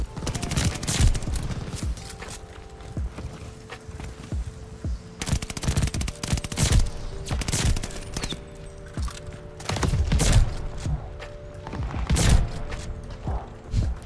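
Video game gunfire rings out in rapid bursts and scattered single shots, loud and close, with footsteps and mechanical clicks between volleys and no talk over it.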